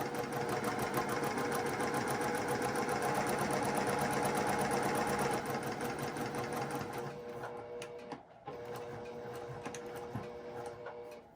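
A sewing machine stitches a seam with a back tack, giving a close, rapid mechanical whirr that runs steadily, then shifts and briefly stops near the end before resuming.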